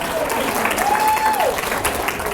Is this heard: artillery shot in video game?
no